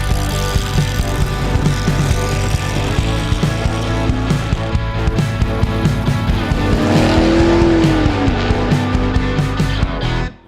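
Loud, steady engine roar of the Mazdaratis, a custom project car, driving toward a drag strip, with a rising whine and tire noise through the middle, ending in an abrupt cutoff.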